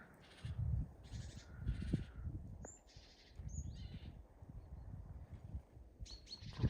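Tits chirp in short, bright bursts from branches in a winter garden in February, fairly close but fairly soft, over low rumbling wind and handling noise.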